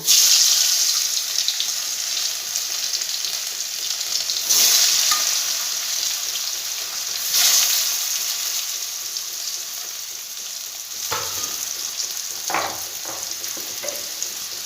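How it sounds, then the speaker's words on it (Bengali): Oil hisses and sizzles steadily as potatoes fry in a wok, with a few brief louder bursts and scraping stirs near the end. "কড়াইতে তেল দিয়ে দিয়েছি এখন আলুটা ভেজে নিব"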